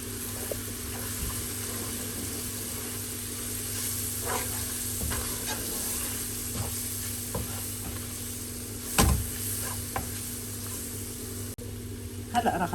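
Coriander and paprika spices sizzle in a frying pan and are stirred with a utensil, giving a steady soft hiss with occasional scraping clinks and a faint hum nearby.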